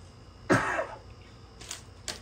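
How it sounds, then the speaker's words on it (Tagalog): A single sharp cough, close and fairly loud, followed by a couple of faint clicks in a quiet room. "Inuubo ako."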